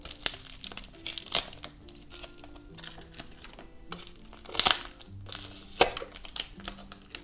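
A taped surprise toy barrel is unwrapped with crinkling plastic and tearing tape, in short bursts of rustling and sharp rips close up, with quiet pauses between them.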